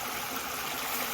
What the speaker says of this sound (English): it's like a little mini waterfall right there